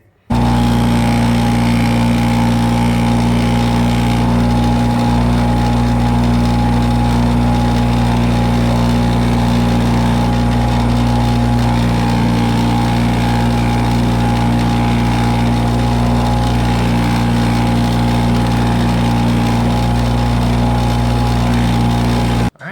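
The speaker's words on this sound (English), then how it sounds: "now I'm gonna buff it out" A buffing machine polishes an antler knife handle sanded to 1000 grit, producing a constant, loud motor drone with a steady hum that runs unbroken throughout.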